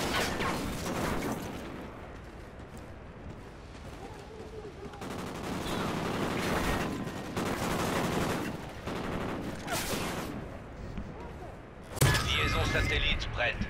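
Gunfire from Call of Duty: Ghosts, including sniper shots, cracks and rattles in bursts amid game noise, with a loud blast near the end and players talking over it.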